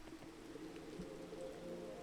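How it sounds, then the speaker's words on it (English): Steady rain patters without a break in the video game PEAK, a soft continuous wash of falling drops with no voices over it. "And the rain continues to protest any amount of progress I put in."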